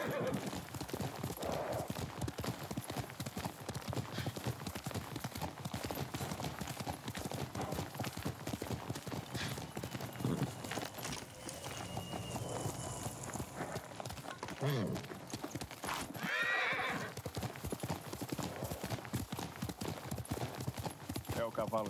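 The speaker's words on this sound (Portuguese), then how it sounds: "É o cavalo dela." Horse hooves and neighing in the video game Ghost of Tsushima: steady clip-clop of hooves throughout with a whinny partway, under a game soundtrack and spoken dialogue.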